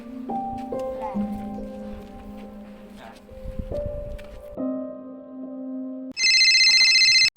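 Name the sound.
telephone ringing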